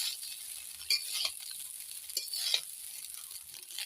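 Fried rice with vegetables stir-frying in ghee, a soft continuous sizzle with a few light scrapes and stirring clicks from the pan, faint and close.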